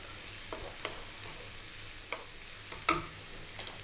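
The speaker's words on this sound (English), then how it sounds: "We're going to throw this around in the pan on a medium heat for about 4 minutes." Vegetables frying in a pan over medium heat for a Greek beef and tomato stew, a soft steady sizzle with scattered scrapes and clinks from stirring, fairly quiet and close.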